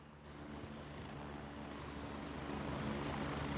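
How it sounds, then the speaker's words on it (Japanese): A helicopter in the video game Gray Zone Warfare flies nearby with a steady, droning rotor and engine hum that grows slightly louder as it approaches, with no voices. "なんかヘリがちょこちょこ来てるな。"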